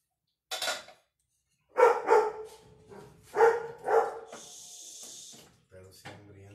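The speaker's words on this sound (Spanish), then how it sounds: "Cállate, perro. Escucha nada más una olla y ya anda ladrando." A dog barks in a home kitchen during a Mexican Independence Day gathering: a few sharp barks in short bursts, followed by a steady hiss, with stretches of silence between.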